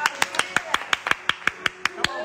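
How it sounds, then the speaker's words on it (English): A small group claps in slow, regular rhythm at a gospel singing performance, about a dozen sharp, evenly spaced claps with faint voices underneath. "A round of applause."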